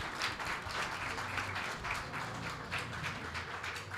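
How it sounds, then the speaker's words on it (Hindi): Audience clapping at a Maharishi Dayanand Saraswati birth anniversary event in a hall, steady dense applause running throughout at moderate loudness, with no speech over it. "जोरदार तालियां।"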